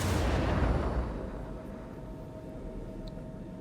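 Missile launch in the Star Citizen space combat game: a loud rushing roar that starts the clip and then fades into a long, steady, rumbling decay, with no voices.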